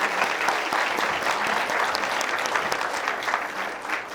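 A live audience applauds steadily to welcome a female panelist at a youth dialogue event in Nepal, a dense, even wash of clapping that fills the whole stretch without pause.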